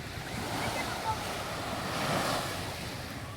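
Strong ocean surf at a beach resort in Agno rolls and crashes continuously, a broad roaring wash of waves with wind buffeting the microphone throughout.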